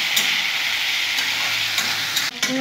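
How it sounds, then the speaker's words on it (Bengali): Vegetables for a vegetarian curry (potato, pointed gourd, jackfruit seeds, spiny gourd and squash) fry with salt and turmeric in a pan, a dense bright sizzle with light stirring clicks, close by and steady, ending in a brief clatter. "ভালো করে আমি ভেজে নেব সবজিগুলো"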